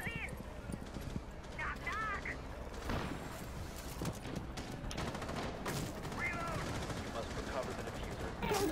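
Rainbow Six Siege gunfire crackles in bursts amid clattering in-game action during a ranked placement match, with players talking over it throughout.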